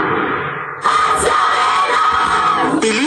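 Fans screaming and cheering at a Dubai reunion concert, a loud, sustained wall of high-pitched shrieks and yells that swells abruptly and holds, with no talking over it.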